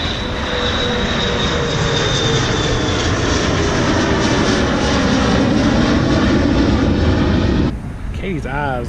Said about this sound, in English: Here's a very small plane taking off.